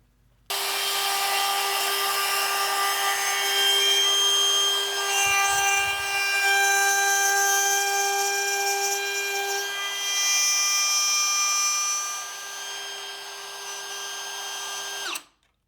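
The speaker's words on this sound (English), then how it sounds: "That allows me to run my router along this as a straight edge." A router cuts a groove in wood as it runs along a straight edge, giving a loud, continuous high-pitched whine that holds steady for about fifteen seconds before cutting off abruptly.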